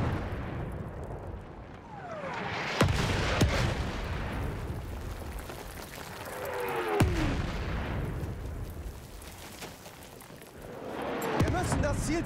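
Shells from an enemy artillery barrage in Battlefield 1 land in three heavy booming impacts spaced a few seconds apart, with rumbling battle noise in between.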